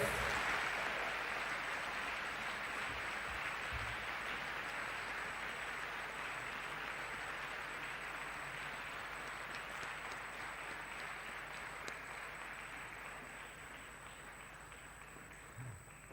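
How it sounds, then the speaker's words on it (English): Steady applause from a convocation audience honoring the top graduating student, a dense, even wash of clapping that holds at moderate level throughout and slowly eases toward the end. "give a round and loud applause to the best student"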